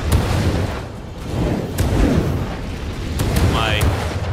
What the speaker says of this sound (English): My cluster grenade and flame douchebaggery